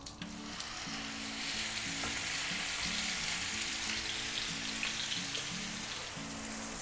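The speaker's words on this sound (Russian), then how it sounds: "Обжариваем фарш, постоянно его вот так вот помешиваем." Minced chicken thigh and shank sizzles steadily in butter in a pan, with a dense continuous frying hiss and occasional scraping stirs, close and fairly loud with no talking.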